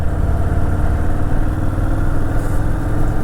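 2023 Anniversary Edition Harley-Davidson Fat Boy 114 motorcycle engine, a steady, loud, close drone while the bike leans through a corner, no voices over it.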